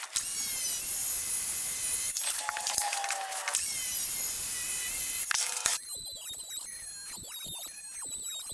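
Flooring is cut with an oscillating tool or circular saw, giving a loud, sustained buzzing rasp in several bursts with short pauses between, followed by quieter, irregular squealing.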